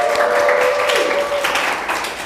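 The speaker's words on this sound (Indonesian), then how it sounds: "tepuk tangan dulu dong buat Rival." A short burst of audience clapping during a campus talk show episode, brief and fairly loud with a steady tone running through it.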